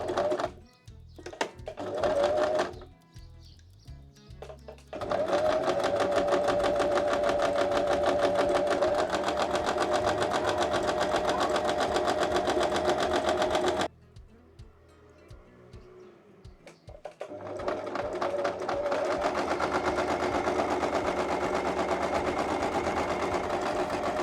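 A sewing machine fitted with a zipper presser foot stitches a fabric strap along a cord, running in steady bursts of rapid mechanical whirring with brief pauses between runs and a quieter stretch midway.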